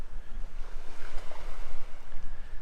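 Ocean water at high tide beside an oceanfront campsite on Vancouver Island, Canada, with a steady surging wash of waves and low wind rumble close to the microphone.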